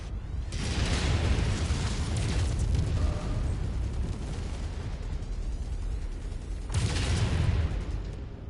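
A target blows up in a combat video game with enemy artillery, giving a loud booming burst at the start and another near the end, with sustained rumbling debris noise in between.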